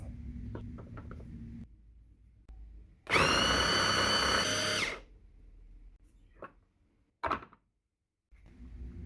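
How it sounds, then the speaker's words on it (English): A blender purees cooked sweet potato in a bowl with a loud, steady whir lasting about two seconds, framed by quiet knocks and clunks before and after. "Have to blend it the potato until smooth, guys."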